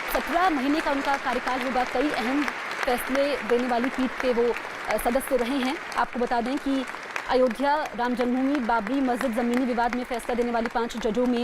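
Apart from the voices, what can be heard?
applause at Chief Justice swearing-in ceremony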